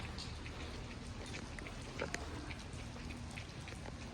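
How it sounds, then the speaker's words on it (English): Steady rain falls outdoors, a dense, even patter on surfaces with scattered sharper drops, continuous and fairly quiet throughout with no talking. "It looks so beautiful when it's raining though."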